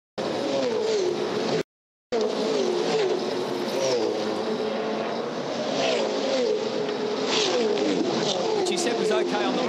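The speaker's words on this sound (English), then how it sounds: "It's 180 kilometres an hour as the cars emerge over that rise, and that's down through the corkscrew." V8 Supercars race cars roar past at around 180 km/h over a rise and down through the corkscrew, a continuous loud engine drone with a brief cut, while a commentator talks over it.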